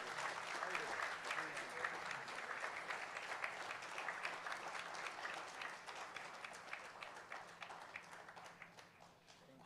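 An audience at a national quiz finals event applauds a trophy winner, a dense, even wash of clapping that fades slightly toward the end.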